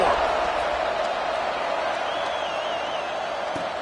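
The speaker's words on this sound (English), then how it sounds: "this crowd is buzzing after that last score" Steady stadium crowd buzz after a touchdown in the College Football 26 video game, LSU vs Texas: a dense, continuous roar with a faint whistle-like tone rising and wavering partway through.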